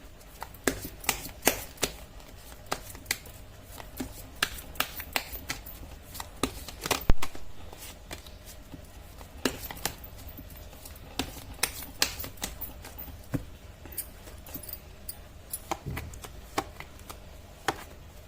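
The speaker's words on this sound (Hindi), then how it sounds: "कर लेती हूँ कार्ड की शफलिंग" Tarot cards being shuffled by hand, a long run of quick riffling flicks and soft taps in irregular bursts, close and crisp with no speech.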